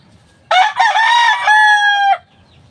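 A fighting rooster crows once, loud and close, a single full cock-a-doodle-doo lasting under two seconds, rising then holding a long drawn-out final note before stopping in near silence.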